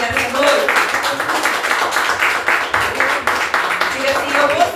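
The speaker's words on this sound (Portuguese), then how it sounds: "Você pode dar um forte aplauso a ele nessa noite?" Congregation clapping during an evening church prayer service, a dense steady patter of many hands that rises and falls in loudness, with no voices over it.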